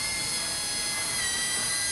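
A cordless drill bores a hole with a steady, loud, high whine that holds unbroken throughout, with no talking.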